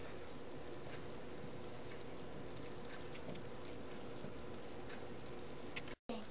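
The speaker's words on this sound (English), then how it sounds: "Now we're going to slowly pour this over our powdered sugar cookie sheet." A thin, steady hiss of hot candy syrup pouring continuously onto a powdered-sugar-coated cookie sheet, close by, with a brief dropout near the end.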